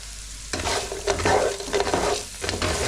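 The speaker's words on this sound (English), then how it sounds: "So mix those onions, chilies, peppers in with the chips" Chips with onions, chilies and peppers are stir-fried for squid, a loud close sizzle with tossing and scraping in the pan, without voices.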